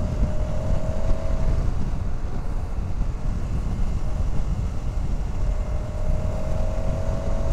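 A KTM 1290 Super Adventure S motorcycle pulls hard in fifth gear, its engine a steady droning hum buried under heavy, roaring wind buffeting the rider's microphone.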